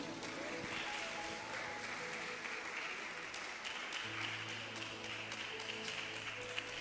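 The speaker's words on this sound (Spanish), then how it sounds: "Si puede, dar un aplauso a Cristo." A church congregation gives sustained applause that sounds dense and wash-like, holding steady throughout at moderate volume, with faint voices mixed in.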